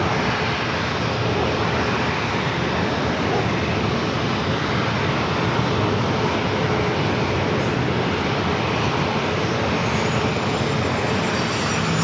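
FedEx feeder ATR turboprop plane arriving at San Diego airport, a loud, sustained engine roar that holds steady and close throughout with no talk over it.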